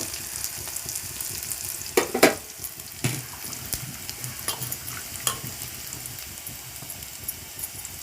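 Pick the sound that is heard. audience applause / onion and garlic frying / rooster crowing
onion and garlic frying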